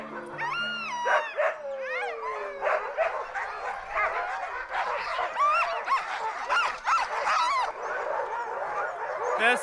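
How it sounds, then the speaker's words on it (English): Many sled dogs bark, yip and howl at once in a loud, overlapping chorus that continues without pause, with whining and yelping mixed in. "They're so loud, the dogs are so loud."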